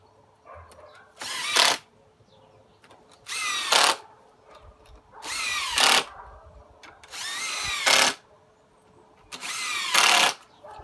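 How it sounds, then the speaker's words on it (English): A power drill bores into recycled wood for a pull-up bar, five loud bursts of a few seconds each separated by short quiet pauses, with no talk. "Now I just want to drill a little bit deeper in so that the bar will be nice and firm inside."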